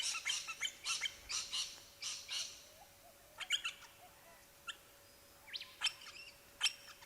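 Pale-headed rosellas calling in Australian subtropical bushland, a run of sharp, bright chirps and whistled notes in scattered bursts, fairly close and clear against a quiet background with a faint steady hum.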